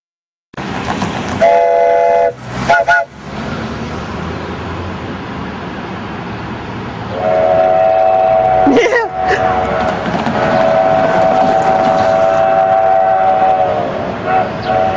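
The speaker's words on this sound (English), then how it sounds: "The train should be coming in pretty soon." A Durango and Silverton train rumbles nearby as it approaches, with a loud, sustained horn blast partway through, heavy mechanical noise throughout and some voices in the background.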